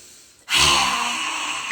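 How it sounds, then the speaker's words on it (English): A deep inhale followed by a long, forceful exhale during a qigong breathing exercise, the breath out loud and close, steady until it trails off. "take a deep breath in, breathe in, and big breath out"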